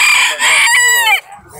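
A rooster at a fair crows once, loud and close, with a strained, rising-then-falling call that cuts off abruptly.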